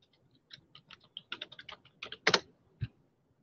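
Quick, light keystrokes on a computer keyboard in an irregular burst, ending in a couple of heavier key presses like the Enter key being struck, close and fairly quiet with no talk.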